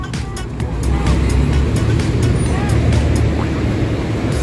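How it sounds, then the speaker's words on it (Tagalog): Vehicles speeding along a road, a steady close rumble of traffic with engine drone and passing whooshes, loud and continuous throughout, with voices faintly present. "Mga rumaragasang sasakyan"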